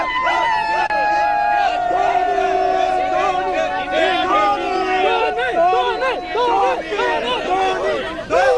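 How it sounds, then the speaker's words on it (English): A large cricket crowd at a Champions Trophy match between India and South Africa chants players' names in loud, rhythmic, repeated group shouts, with many voices rising and falling together close by. "So now it's the Dhoni Dhoni chant, the Kohli Kohli chant, the Dhawan Dhawan chant"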